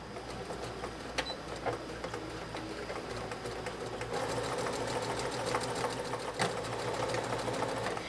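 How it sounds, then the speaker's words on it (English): Sewing machine top stitching fabric for a baby sling, a steady mechanical needle rhythm of rapid ticks, close and continuous, speeding up slightly in the second half. "we're going to take this back to the machine and we are going to top stitch"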